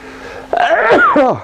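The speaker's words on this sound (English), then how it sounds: "I have to sneeze." A loud, close sneeze that breaks into a drawn-out, voiced burst with a second sharp catch at the end.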